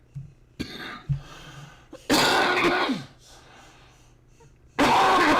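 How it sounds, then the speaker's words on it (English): A person coughs in a few loud, harsh bursts, with breathy throat noise between them and faint background sounds. "I got a cough."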